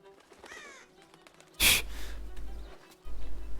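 A sharp, harsh crow call bursts out once amid Shadow of the Tomb Raider game ambience, with a low rumble starting under it and continuing.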